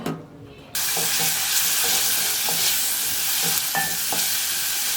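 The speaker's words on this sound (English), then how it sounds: "I'm gonna fry them until they become soft or whatever." Pork hits a hot pan and bursts into a loud, steady sizzle after a brief quiet start, with light scraping taps as the meat is moved around.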